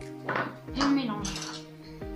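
Cake batter of egg yolks, vanilla sugar and melted butter mixed in a bowl for a coconut meringue chocolate cake, with a few clinks and scrapes of utensil against the bowl under nearby talk.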